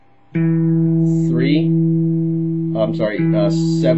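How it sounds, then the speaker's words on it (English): A guitar dominant seventh chord rings out sustained and full, then a few strings are plucked and the chord is struck again near the end. "That's a dominant 7 sound."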